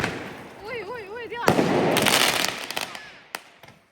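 New Year's Eve firecrackers bursting outdoors in Germany, a sharp close bang followed by a dense crackling volley and scattered later pops, with a whistling rocket rising beforehand.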